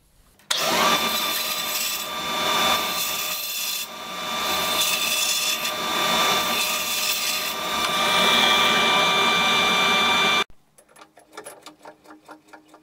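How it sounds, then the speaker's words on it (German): Band saw roughly trimming the corners off a wooden block before turning on a lathe. A loud, continuous cutting whine runs for about ten seconds and then stops abruptly, leaving faint rattling. "Jetzt schneide ich noch kurz an der Bandsäge die Ecken grob ab."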